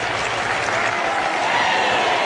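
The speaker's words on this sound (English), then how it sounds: "The crowd go absolutely crazy here." A cricket crowd roars and applauds after a prize catch, a dense, loud wall of cheering that holds steady throughout.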